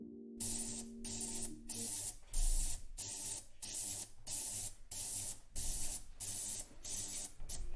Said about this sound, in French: C'est une machine à laver le bijou qui nous sert à enlever toutes les petites saletés